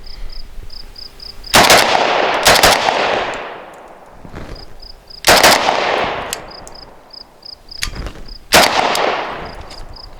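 An AK-74 rifle with a red dot sight fires pairs of shots on a range: loud, close double cracks that ring out and decay, with pauses between the pairs, four pairs in all.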